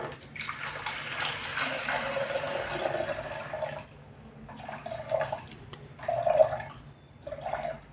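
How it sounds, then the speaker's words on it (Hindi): About 700 grams of water is poured into a container while a detergent liquid is being mixed, heard as a steady splashing stream followed by several shorter pours with brief pauses, close and moderately loud. "तो हमें इसमें पानी लेना है 700 ग्राम।"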